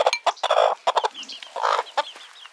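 A hen near chicks about two weeks old gives a run of close, loud clucks and short squawky calls in uneven bursts, with no talking.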